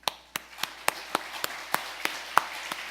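A church congregation clapping in a steady, even rhythm: about ten crisp, evenly spaced claps, close and moderately loud, with no talking.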